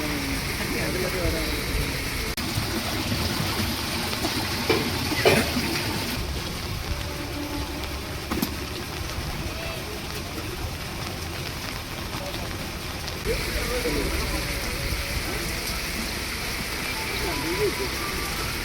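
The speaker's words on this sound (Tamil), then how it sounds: "மழை" Steady rain pours down, a dense continuous hiss with occasional louder spatters, while muffled voices talk faintly underneath.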